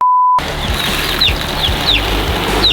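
Chickens and young chicks on a backyard farm roost give short clucks and chirps, with a few high peeps, after a brief steady tone at the start.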